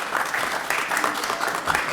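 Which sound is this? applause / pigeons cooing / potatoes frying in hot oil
applause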